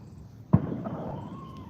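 A single dull boom of neighbors' fireworks going off outdoors, distant and fairly faint, with a short fading tail and no talk.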